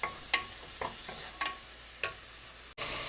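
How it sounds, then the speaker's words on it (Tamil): Onion paste and ginger garlic paste for mutton biryani being sautéed in a pan, with a soft continuous sizzle broken by a series of sharp scraping stirs and a louder burst of frying near the end. "இந்த வெங்காய பேஸ்ட்டும் இஞ்சி பூண்டு பேஸ்ட்டும் நல்லா பச்சை வாசனை போகிற வரைக்கும் நல்லா வதக்கிக்கோங்க"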